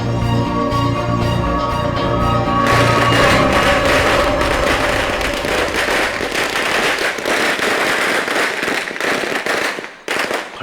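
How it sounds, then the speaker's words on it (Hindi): Loud, rapid firecracker bursts crackle continuously, dense popping that thins out near the end; music plays at first before the explosions take over. "पटाखे तो फूट गए"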